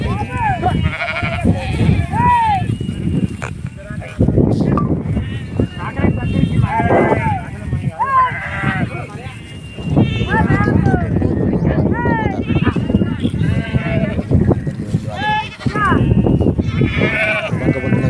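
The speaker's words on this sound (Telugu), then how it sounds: "గొర్రెలు అయితే అన్నీ కలిసినాయి" Many sheep bleat over and across each other, a dense, loud chorus of overlapping calls from a nearby flock, with occasional background voices.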